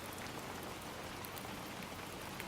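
Steady, even rainfall patters down continuously, a quiet, uniform hiss of drops on surfaces with no voices or other sounds.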